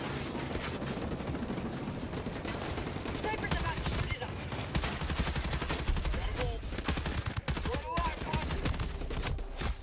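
Sniper and rifle gunfire in Ghost Recon Breakpoint, a dense run of sharp cracks and bursts over steady combat noise, with a voice talking now and then.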